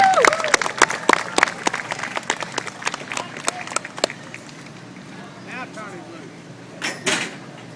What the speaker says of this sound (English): We gotta give Robbie here in the suit a round of applause